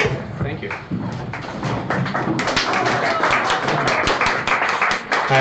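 An audience at a whole brain emulation talk breaks into applause, with dense overlapping hand claps that start softer and swell into a steady, loud round of clapping.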